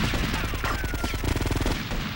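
Rapid automatic gunfire in the GTA: Vice City Stories video game, a dense rattling burst of evenly spaced shots that continues for about two seconds with game noise beneath it.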